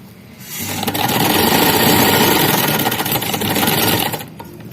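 A sewing machine stitches the side pocket seam of a kameez in one continuous, fast-whirring run of about three seconds, close and loud. It starts and stops cleanly with quiet on either side.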